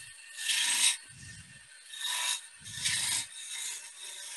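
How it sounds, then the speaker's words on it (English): A skew or gouge cutting beads on wood spinning on a lathe: rhythmic raspy scraping strokes in repeated bursts, each rising and fading, close and fairly loud with no talk. "Whenever you're cutting beads with either the skew or the gouge, always give yourself room for the end of the cut to go into."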